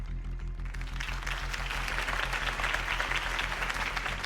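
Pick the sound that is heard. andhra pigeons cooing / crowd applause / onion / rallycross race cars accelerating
crowd applause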